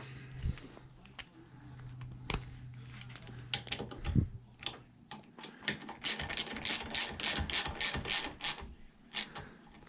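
A ratchet tightens the intake manifold bolts on a Mini Cooper R50 during an R53 manifold install: scattered clicks and taps, then a fast run of ratchet clicks near the end, quiet and close with some faint talk.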